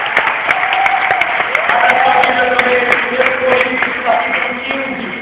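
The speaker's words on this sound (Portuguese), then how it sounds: "dá um aplauso a ele" Audience applause during a worship ministry gathering, sustained clapping from a crowd over several seconds with a voice speaking over it and faint tonal music underneath.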